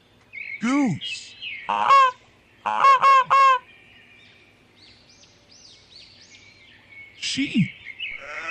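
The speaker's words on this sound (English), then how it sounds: "Goose." A goose honks in several loud, nasal bursts, a pair and then a quick triple, with a later honk, sung as a cartoon farm-animal call over faint background chirping.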